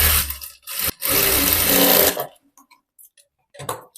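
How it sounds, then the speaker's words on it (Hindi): A sewing machine stitching the neck strip of a half-collar blouse: two close bursts of whirring stitching, the second longer, followed by soft, sparse handling clicks. "अब पट्टी की तरफ मैं एक सिलाई लगा रही हूँ"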